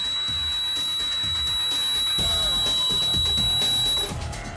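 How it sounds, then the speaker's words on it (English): A continuous high-pitched electronic buzzer tone, powered by a homemade lemon battery, sounds for about four seconds over clattering background noise, then stops. "as you can see the buzzer is buzzing"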